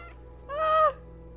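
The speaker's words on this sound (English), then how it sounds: "Square meows for me." A single short meow from a cat in the video game Stray, a brief rising-and-falling tonal call lasting under half a second, clear and alone over a faint steady hum.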